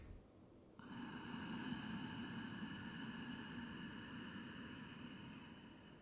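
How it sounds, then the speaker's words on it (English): A steady, hissing ujjayi yoga inhale is drawn through a narrowed throat with the mouth closed. It starts abruptly and holds an even, soft rushing tone for several seconds, close and quiet. "create a slight closure in the back of the throat, just like a valve, and create a sense of the breath swirling in the back of the throat"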